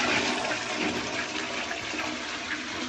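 A newly installed toilet in a London house extension flushes with a loud, rushing surge of water that fills the whole stretch, steady and close.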